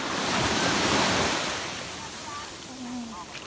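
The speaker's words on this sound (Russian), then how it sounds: "Волны пошли." Cold sea waves breaking on a shore near Fokino, a loud continuous surging wash that swells early and slowly eases, buffeted by wind noise, with a faint voice briefly audible underneath.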